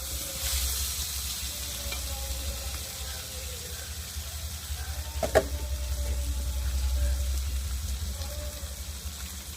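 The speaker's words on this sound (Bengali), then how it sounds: "এখন এই যে কেটে রাখা আলুগুলোকে দিয়ে পেঁয়াজের সাথে ভালো করে ভেজে নেব।" Cut potatoes fry with onions and green chillies in a pan, giving a continuous close sizzle with a low rumbling hiss and one sharp utensil knock, no talking over it.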